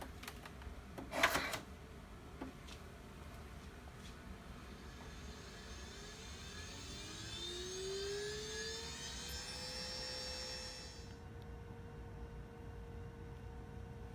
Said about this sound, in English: Pellet the cells again by spinning the balanced tubes on a mini centrifuge for 1 minute.